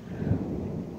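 Thunder rumbles low and heavy over a garden bed where leeks are being planted, a steady deep roll lasting the full second with a slight swell near the start.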